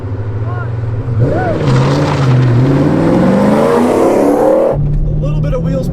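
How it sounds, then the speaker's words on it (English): A C4 and a C5 Chevy Corvette launch in a drag race, their engines roaring loud and close as they climb in pitch through the gears. The sound cuts off abruptly near the end, and talk runs underneath. "we're going to insert a really cool drag race we did between that C4 and a C5 Corvette"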